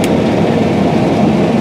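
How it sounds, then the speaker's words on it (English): A New Holland CR8090 twin rotor combine, 449 horsepower, harvesting soybeans in a field, its engine giving a loud, steady, broadband drone with no talk. "This is a 449 horsepower combine with a 350 bushel grain bin."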